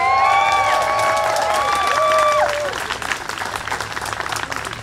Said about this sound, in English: Let's have a big cheer.